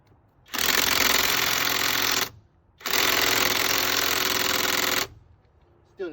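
An Alloyman 20V impact driver runs in two loud, close bursts of rapid hammering, each about two seconds long, separated by a short pause, with no talking.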